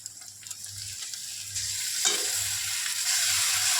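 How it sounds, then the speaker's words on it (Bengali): Paste of onion, ginger and garlic fries in a pan for chicken kosha, a close sizzle that swells louder midway as it is stirred, with a low hum underneath and no speech. "মশলাটাকে ভালো করে ভেজে নেব"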